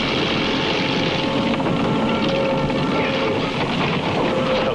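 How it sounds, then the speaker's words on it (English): A small propeller plane in flight gives a loud, continuous droning hum that stays steady throughout, with no talk. "here they are in a little prop plane flying back"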